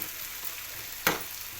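Cabbage fries in a pan with a faint, even sizzle throughout and one brief sharper crackle partway through.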